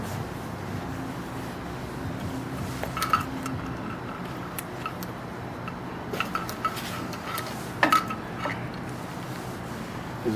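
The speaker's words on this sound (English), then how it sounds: "This is like a ball bearing in there" A metal ball bearing rattles inside an insect bait pump sprayer as it is shaken, giving a few brief clinking bursts over a quiet background.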